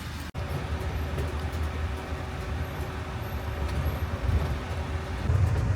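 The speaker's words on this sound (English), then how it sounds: "we got a tram over here. Let's hop aboard." A tram carrying visitors at the Biltmore estate in Asheville, North Carolina gives off a steady low rumble with road and engine noise from inside the vehicle. A single sharp click comes near the start, and no one talks.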